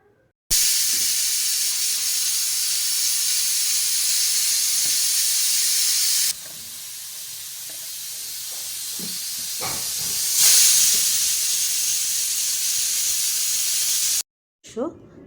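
A pressure cooker on the stove cooking mutton curry with potatoes vents a long, loud, steady steam hiss, shifting slightly in strength before cutting off abruptly.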